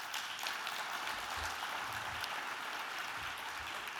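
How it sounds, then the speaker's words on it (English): An audience at a network meeting's closing session applauds, a fairly soft, even wash of many hands clapping that holds steady throughout the short stretch. "So please give yourselves a round of applause."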